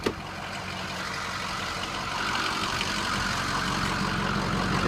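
A Ford truck engine idles steadily with a low, continuous rumble. The sound stays close and grows slightly louder toward the end, with no talking.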